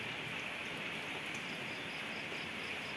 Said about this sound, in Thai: ตอนนี้ฝนกำลังตกหนักนะครับ